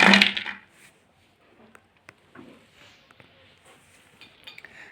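Crunchy fried cabbage pakoras lifted out of hot oil, opening with a loud close clatter and then a run of faint, scattered clinks and light taps.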